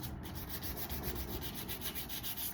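Guitar frets being sanded by hand with 400-grit paper, a close, steady rubbing scrape with even back-and-forth strokes and no talking.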